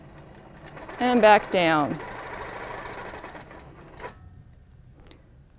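A sewing machine stitches along a dual-edge quilting ruler in two short, close bursts of motor whir, with a brief spoken phrase and a quiet pause afterward.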